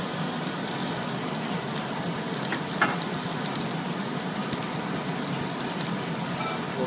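Shad roe fries in bacon fat and butter in a hot pan, giving a steady, even sizzle and crackle throughout, with one faint clink partway through.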